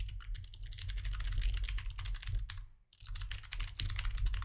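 Rapid, steady clicking of fingers typing on a computer keyboard, close-up and continuous with one brief pause midway, over a low background hum.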